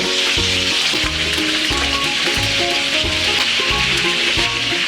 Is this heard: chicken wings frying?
yes